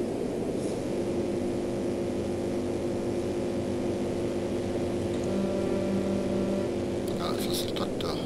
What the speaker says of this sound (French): Ça c'est le tracteur.